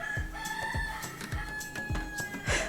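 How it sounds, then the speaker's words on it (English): Several roosters crowing nearby and overlapping in a steady stream, with repeated low thumps underneath, heard in a home kitchen during enchilada verdes prep as onion goes into a blender. "Excuse our roosters."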